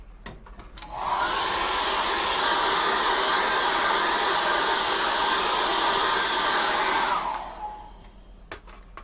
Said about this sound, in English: what we need to do now is dry that with a hairdryer.